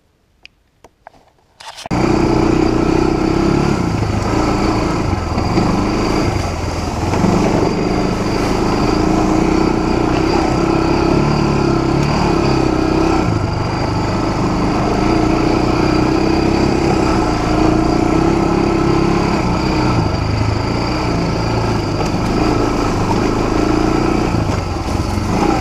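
A four-wheeler ATV engine runs close by during a ride, a loud, steady motor drone that starts abruptly after about two seconds and holds at an even level, with no talking.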